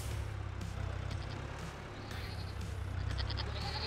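Goats bleat in Farming Simulator 22 against a steady, noisy barn and engine hum, with several short bleats breaking through the constant background.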